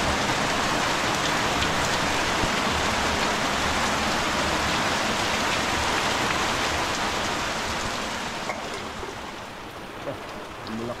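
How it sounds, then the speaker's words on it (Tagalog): Heavy rain falling outdoors, a dense steady hiss of drops on surfaces filling the whole span, loud and close, easing slightly toward the end. "Hindi ka lang sa labas kasi nag-ulan."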